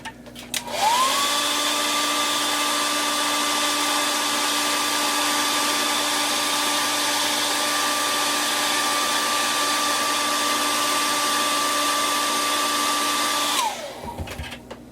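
A heat gun blows steadily for about thirteen seconds, setting airbrushed paint on a fishing lure headpiece: a loud, even whooshing roar with a constant whine, starting and stopping cleanly, with no voices.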